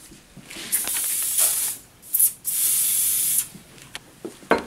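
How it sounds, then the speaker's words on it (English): Glue solution is sprayed onto enamel in several short and longer hissing bursts, close and fairly loud, separated by brief quiet gaps and small clicks. "spray it between applications of color because you want the glue solution uh, mixed so that all the enamel is, is damped, damp with the glue"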